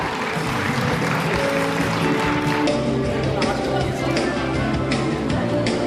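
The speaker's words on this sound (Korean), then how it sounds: "뜨거운 박수 부탁드리겠습니다" Applause at a medical street festival ceremony in Seomyeon, Busan, where foreign supporters are appointed, a steady crowd clapping that fills the whole stretch with people talking over it.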